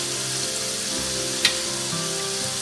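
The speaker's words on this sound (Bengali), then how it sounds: "আমি এখন দিয়ে দিচ্ছি রসুন বাটা" Garlic paste goes into onions already frying in a pan, a steady bright sizzle throughout with one sharp spit near the middle.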